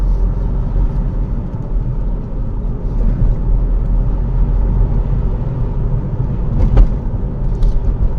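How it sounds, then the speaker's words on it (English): Steady low road rumble and engine drone from a 200 bhp Astra cruising on empty roads at night, with a faint metallic rattle from the coilovers and a brief sharper knock near the end. "It is just a bit of metal on metal from the coilovers."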